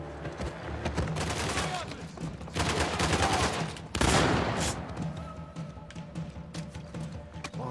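Sustained gunfire rattles through a firefight in the video game Uncharted: The Lost Legacy, dense automatic volleys followed by a heavy boom midway, then thinner scattered shots trailing off at a distance.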